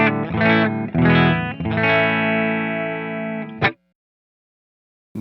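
Strandberg Salem Jazz electric guitar played with a Euna effects pedal switched on: a few rich, chorused chords strummed one after another, then a short muted stroke before the sound cuts to silence, with no talking.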